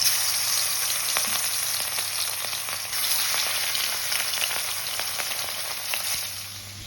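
Katla fish pieces frying in hot mustard oil in a kadai, a steady close sizzle with light crackling and occasional stirring, no voices.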